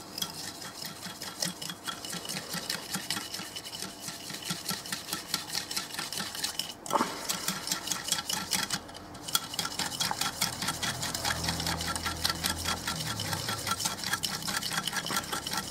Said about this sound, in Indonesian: Lalu kita kocok.